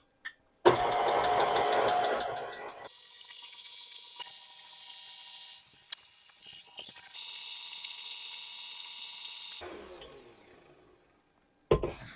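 An electric mixer beats butterfly cake batter in bursts, a loud whirring motor that shifts pitch and intensity across several stretches, then cuts out, with a brief clatter at the end.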